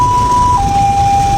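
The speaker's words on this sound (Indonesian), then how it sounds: "saat ini mobil ambulans yang membawa almarhum" An ambulance carrying the deceased during a funeral procession sounds its siren, a loud, close, steady tone that drops slightly in pitch partway through, over low road rumble.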